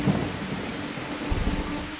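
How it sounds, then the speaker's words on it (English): Rain pours steadily in a thunderstorm, a dense hiss over low rolling thunder that swells briefly midway, loud and continuous with no voices. "the rain started"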